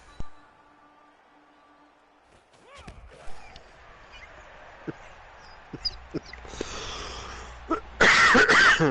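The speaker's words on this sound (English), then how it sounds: "I have a cough situation going on here." Coughing comes in a few short bursts among scattered clatter and background noise, growing louder and harsher toward the end.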